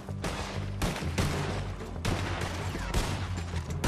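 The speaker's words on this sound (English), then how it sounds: "Who's shooting?" Rapid gunfire rattles through a Red Dead Redemption 2 gunfight, with repeated loud shots in quick bursts over a low game rumble and no talking.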